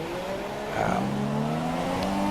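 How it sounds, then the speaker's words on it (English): F1 race cars lapping Monaco in a racing video game, engines whining loud and close with rising pitch sweeps as they pass and accelerate, continuous through the clip. "I'll take a break and you'll listen to the cars"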